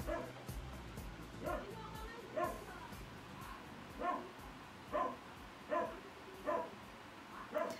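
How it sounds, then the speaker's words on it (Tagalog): A dog barks repeatedly at a steady pace, muffled and somewhat distant, over low background noise. "Sorry sa tunog ng aso namin."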